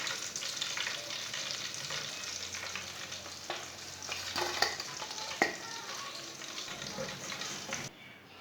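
Potatoes frying in a pan with a steady, moderately faint sizzle and occasional stirring clicks, ending abruptly.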